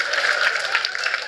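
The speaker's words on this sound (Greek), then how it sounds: "Ευχαριστώ για το αυτόρμητο χειροκρότημα" Applause from a comedy club audience at a stand-up show in Gagarin, a steady dense wash of many hands clapping at moderate volume for just over a second, with no voices over it.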